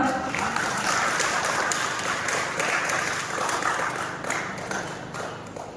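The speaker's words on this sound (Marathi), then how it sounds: "तर त्यांच्यासाठी जोरदार टाळ्या" An audience claps loudly for honorees at an award event for food culture, a dense sustained round of applause that tapers slightly toward the end.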